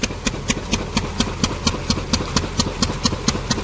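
A groundnut thresher engine runs nearby with a loud, steady, rhythmic chugging, its regular thumping beats about four per second over a constant mechanical rattle and drone.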